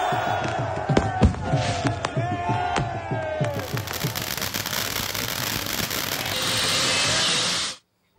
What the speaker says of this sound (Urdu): شاندار فتح پر مت والوں کا شہر شہر جشن، مٹھائیاں تقسیم کی گئیں، کارکنوں نے خوب بھنگڑے بھی ڈالے، آتش بازی بھی کی